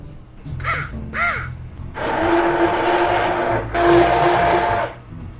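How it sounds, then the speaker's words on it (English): An immersion blender purees tomato basil soup in a pot, whirring loudly and close in two sustained bursts, after two brief crow-like caws at the start. "So grab your immersion blender."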